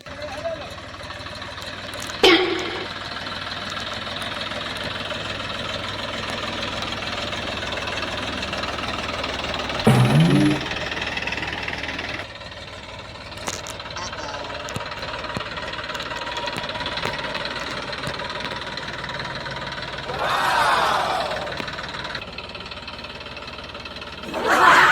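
A tractor engine runs steadily at a field, a low continuous rumble with a few louder knocks and bursts, partly under speech.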